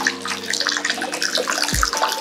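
Mineral spring water pours and splashes steadily from fountain number 5 at the Karlovy Vary colonnade, a close, continuous trickling with a brief low thump near the end; no speech.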